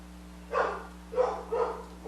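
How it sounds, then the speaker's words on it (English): A dog barks three times in quick succession indoors, muffled and moderately close, over a steady low electrical hum. "and then Remy's barking, and it's just"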